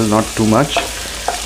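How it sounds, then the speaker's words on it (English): Vegetables for chicken soup, including onions, sauté in a pot with a low, steady sizzle while a person speaks briefly over it. "So just going to fry them a little bit, saute them very little,"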